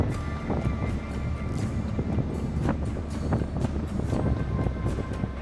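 Strong wind buffets the microphone continuously, a low rumbling roar with gusty rustling throughout and no pauses, outdoors in Ireland.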